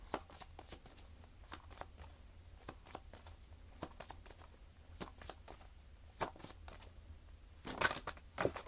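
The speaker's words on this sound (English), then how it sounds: "a lot of cards came out when I shuffled for this card" Tarot cards being shuffled close up, a run of soft flicks and riffles with sharper snaps near the end, no talking.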